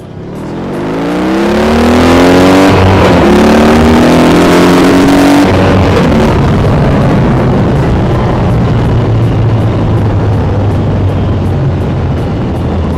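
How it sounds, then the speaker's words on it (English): A BMW R18 First Edition motorcycle's big air-cooled boxer engine revs hard and climbs in pitch, then settles into a loud, steady roar that continues for several seconds. "They didn't make this BMW's biggest air-cooled boxer engine for nothing."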